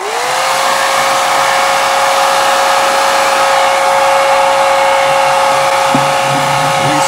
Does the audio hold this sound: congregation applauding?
no